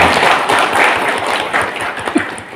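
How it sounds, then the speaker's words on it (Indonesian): An audience at a district government office's HPSN 2023 ceremony in Wonogiri bursts into dense, continuous applause, loud and close, with a murmur of voices mixed in. "Moga tepuk tangan untuk kita semua."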